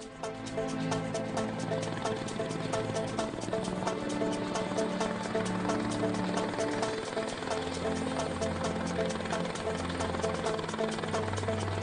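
Helicopter noise fills the cabin during a flight over the cirques, a steady dense engine and rotor drone with a fast chopping pulse throughout.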